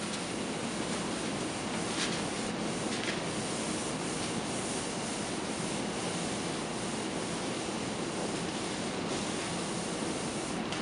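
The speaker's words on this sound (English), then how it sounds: "And we're going to wipe it down from the back" A lab table being wiped down after spraying with disinfectant, a steady soft rubbing and swishing of cloth on the surface, continuous and fairly quiet with no voices.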